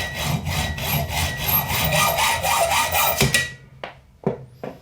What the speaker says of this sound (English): I'm just going to take a hacksaw and chop off 3 of these threads right here